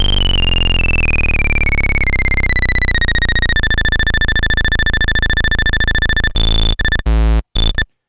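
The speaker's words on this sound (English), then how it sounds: "what was the buzzy sound when it was played at a higher pitch" Kodamo Mask1 synthesizer bitmask sound pitched high: a loud, dense buzzy tone with a sliding harmonic stack, turning choppy and stuttering with gaps near the end.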